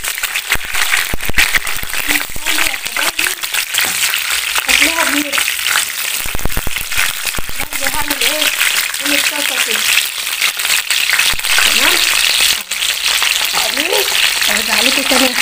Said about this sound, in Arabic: خلاص كده الفلفل بتاعي اتحمر